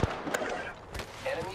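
Several sharp gunshot bursts from a squad firefight in Apex Legends ring out over steady in-game chatter, with quick cracks near the start and middle.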